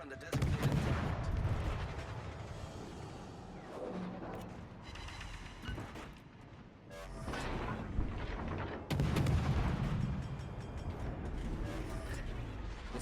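Naval gunfire from a Kiev destroyer in World of Warships: Legends, a series of loud booming blasts and rumbling explosions with short pauses between them, set over a steady background game soundscape.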